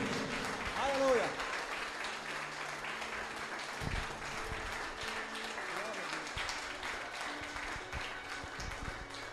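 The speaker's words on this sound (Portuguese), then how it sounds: "Aplauda o Senhor, porque Ele é digno." A congregation claps at an evangelical church service, steady applause running throughout with voices calling out over it.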